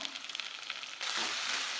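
Tomatoes sizzle steadily in a hot pan with mutton, and the frying grows louder partway through as more is stirred in.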